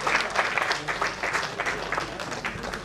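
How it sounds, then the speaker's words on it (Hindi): Audience applause welcomes the best actor award at a school play ceremony, a steady wash of many hands clapping close and moderately loud, with no voices over it. "जोरदार तालियों से स्वागत करें।"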